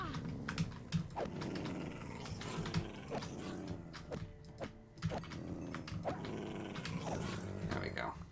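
Wolves in a Minecraft game growl low and repeatedly amid clicking keyboard and mechanical game sounds, with a person talking over them.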